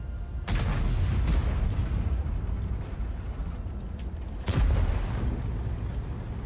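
A tank gun fires in World of Tanks, two heavy booming shots several seconds apart, each a sharp loud blast with a rumbling decay, over steady engine and battle background.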